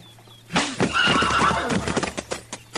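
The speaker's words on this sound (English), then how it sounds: "You hit my horse again, I'll shoot you, Parris." A horse in a 1956 Gunsmoke western radio drama lets out a loud, close whinny, followed by a scatter of hoof clops and shuffling at a hitch rack.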